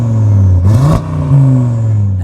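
An Audi RS3 with an AZM valved exhaust and catless downpipes, valves closed, idles loud and close, then gives a quick sharp rev that rises and falls back to a steady burbling idle, with a brief rev again before settling.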